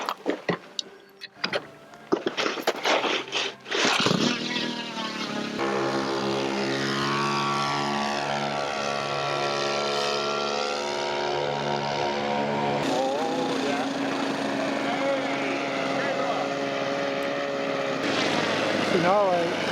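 A model aircraft's ignition-fired engine sputters to life after a few choppy bursts, then holds a loud, steady buzzing drone that shifts in pitch as the throttle is adjusted across different RPM ranges.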